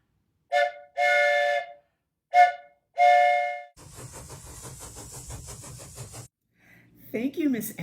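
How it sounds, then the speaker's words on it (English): A train whistle percussion toy sounds in two pairs of short breathy hoots, then a rumbling stretch of engine-like noise and a brief final whistle flourish, close and fairly loud with no talking. "or the train whistle"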